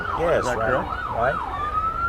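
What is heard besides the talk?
police siren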